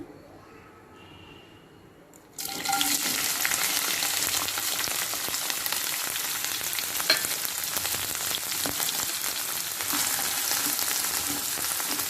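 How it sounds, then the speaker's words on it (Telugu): Chopped bitter gourd frying in hot oil in a pan: a loud, steady sizzle bursts in after a quiet start and holds evenly to the end, close and unbroken. "ఇప్పుడు మనం కాకరకాయలు ఏమైతే తరిగి పెట్టుకున్నాం కదా వాటిని ఫ్రై చేసుకుందాం మంచిగా"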